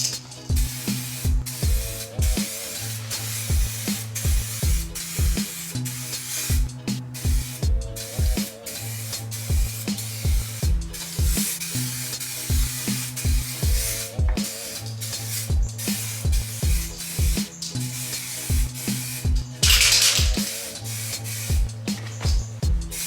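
Rattle cans spraying clear coat inside a car engine bay give a steady hissing spray in repeated passes, with a stronger burst near the end, all under a rhythmic music bed.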